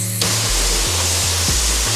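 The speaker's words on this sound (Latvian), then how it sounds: "Ņemam šo pistoli, slēdzam ūdens un putas" Water and foam blast from the pressure gun at a self-service car wash onto a car, a loud constant roaring hiss close up, with a pump or motor hum pulsing underneath and no talk.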